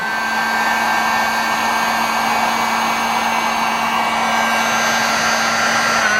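Heat gun or hair-dryer-style blower heating heat-shrink tubing on rear bumper pod light wiring, a steady loud continuous whir with a constant hum, close up and uninterrupted, no talking.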